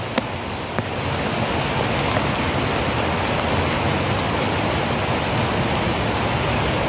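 Steady rain pours down outdoors in an even, dense hiss that fills the whole clip, loud and close, with a couple of brief faint knocks near the start and no talking.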